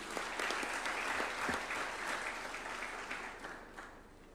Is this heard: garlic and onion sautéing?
no